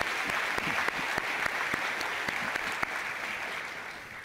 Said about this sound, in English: in a round of applause for all of our directors.